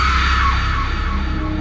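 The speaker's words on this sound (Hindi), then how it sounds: "अरे इतनी जोर की चीख" A loud, sustained scream from an animated horror story, dense and unbroken for over a second and a half.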